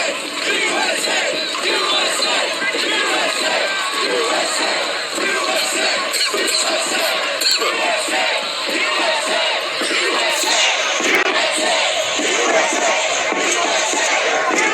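A large crowd at the capital shouts and roars loudly and continuously, massed voices close and dense with occasional louder bursts of yelling.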